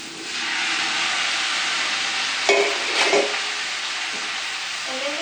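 Cabbage and egg noodles stir-frying in a pan for haluski, a steady close hiss and sizzle broken by a few brief utensil scrapes and clinks as the mixture is tossed.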